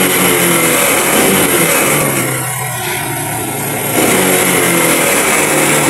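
A motorcycle with a carburetor fault races far too fast, its engine running loud and high almost without pause, dipping briefly in the middle before roaring back up close by.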